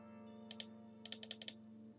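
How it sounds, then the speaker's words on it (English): Faint computer mouse clicks picked up by a streaming microphone during a Duel Links card game session, a pair of quick clicks followed by a rapid run of five more over a steady low electrical hum. "you can hear the mouse clicks even more"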